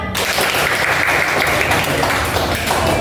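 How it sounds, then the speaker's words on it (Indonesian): A classroom of students claps together in a loud, dense burst of applause that fills the room evenly for a few seconds, with no talk over it. "Tepuk tangan."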